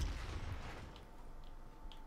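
A grenade detonates in Call of Duty: Black Ops Cold War during a team deathmatch, one heavy low boom at the start that decays into rumbling, followed by faint distant pops.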